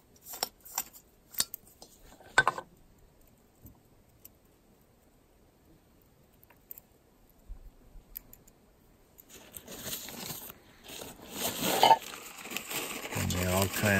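A camping cup, pot and lid clink together in a few light knocks, followed by a longer crinkly rustle as they are packed into a larger DCF stuff sack.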